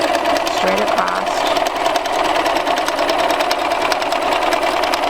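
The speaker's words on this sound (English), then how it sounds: "is just to sew a simple straight stitch 3/8 of an inch from the bottom edge, straight across" A sewing machine runs steadily, sewing a straight stitch through fabric layered with an air filter for a cloth face mask: a fast, even mechanical chatter held for several seconds, loud and close, with a brief voice-like tone early on.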